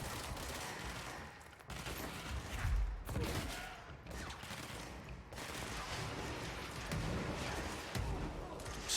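Rockets firing and exploding in the video game Control, a dense barrage of booms and blasts over about nine seconds, with heavy low-end impacts near the start and middle and constant loud combat noise throughout.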